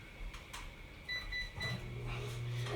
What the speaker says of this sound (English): I always microwave them with some water.